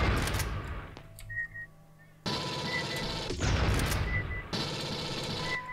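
An enemy fires on the player in Aliens versus Predator 2, loud bursts of rapid gunfire coming in stretches with short quiet gaps and a sharp crack between them.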